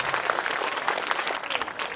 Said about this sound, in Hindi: आप तालियां बजाइए, लड़के कम तालियां बजा रहे हैं।